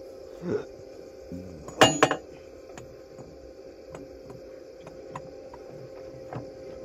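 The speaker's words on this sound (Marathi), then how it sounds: "इथे यंत्रणा चालू आहे बघा, रात्रीची मशीन चालू आहे" Machinery runs at night with a steady, low mechanical hum and faint whine, broken by a few soft clicks and a brief louder clatter early on, fairly distant and quiet.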